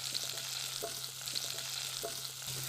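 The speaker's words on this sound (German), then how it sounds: "Die Pfanne mache ich schon mal heiß, gebe da jetzt meine Würfelchen rein vom Sellerie." Diced celery frying in a hot pan at about three-quarters heat, a steady soft sizzle with faint stirring clicks and scrapes at intervals, close and moderately quiet, without speech.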